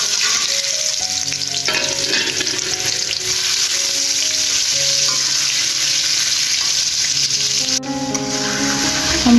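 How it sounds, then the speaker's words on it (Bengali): Ripe mango pieces stirred in hot oil with dried chillies for a sweet-hot mango pickle, a steady loud sizzle broken by scraping stirs of the spoon across the pan throughout. "আমগুলো তেলের মধ্যে 2-3 মিনিট নাড়াচাড়া করে নিয়েছি।"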